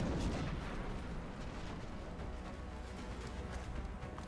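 Rocket fire and heavy explosions in the strategy game XCOM Long War, a dense, rumbling barrage of blasts that stays loud and continuous throughout with no talk.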